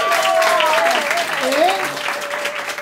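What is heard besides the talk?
audience applause at an improv show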